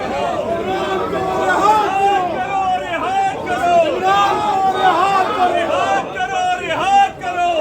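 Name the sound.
protesters chanting slogans inside Parliament House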